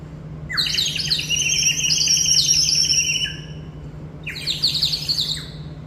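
A bird-shaped toy whistle gives bright, rapid chirping trills: one long burst of warbling tweets, a short pause, then a second shorter burst, close and clear over a faint steady hum.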